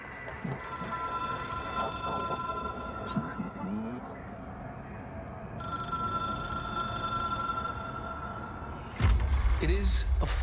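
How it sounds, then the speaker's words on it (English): A ringing telephone in the video game Control, a strange object-of-power phone, rings in steady repeated tones over a low humming rumble and faint talk, ending in a louder thud. "It is a phone. It's an object of power. It doesn't connect to any typical network."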